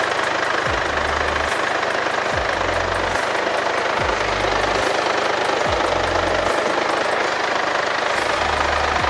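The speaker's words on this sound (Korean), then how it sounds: "엔진 소리도 일정하고 좋습니다" Mercedes-Benz CLA200 CDI diesel engine idling in the open engine bay, a steady close-up clatter and hum with a regular low pulsing rhythm, no talk over it.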